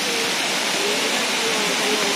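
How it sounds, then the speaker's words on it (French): A jungle waterfall on Koh Samui roars close by as a dense, steady rush of falling water that fills the scene without pause. "la cascade se poursuit de ce côté-ci, c'est vraiment magique"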